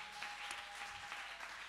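A church convocation audience claps for a group being introduced, a dense, even patter of many hands heard from a distance and quite faint.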